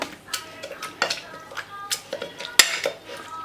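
Boiled pointed gourd (parval) being mashed inside a pressure cooker, with irregular metallic scrapes and clinks of a utensil against the pot, moderately close, with quiet gaps between strokes.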